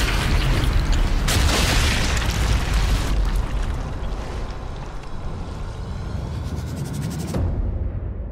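A loud, continuous explosive roar with deep rumbling and crackling debris as a U-boat fleet is destroyed in the video game Sniper Elite 5, surging and easing over several seconds before cutting off abruptly.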